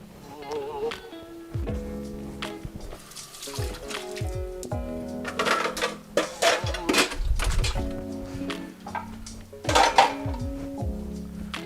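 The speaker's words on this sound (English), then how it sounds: "So what I'm going to do is add my wok ring." A metal wok ring set in place under a wok on a home stove, with several clanks and thunks of metal against metal, some rattling, and a faint trickle of liquid in the background, close up.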